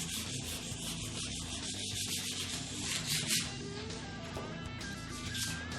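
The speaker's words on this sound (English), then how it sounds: "Then I come with some 600 sandpaper and I go over all the" Frets of a 1974 Gibson Les Paul being sanded with 600 grit sandpaper during a refret, a steady close rubbing and scratching that continues without pause over a low background hum.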